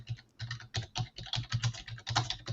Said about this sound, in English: and while she's typing